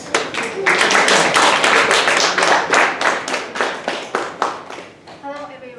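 Audience applause at a university English faculty speech contest as a first-year speaker is called to the stage: dense, steady clapping from a roomful of people for about five seconds, fading out at the end with a voice starting faintly.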